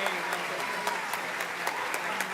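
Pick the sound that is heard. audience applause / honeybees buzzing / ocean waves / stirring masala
audience applause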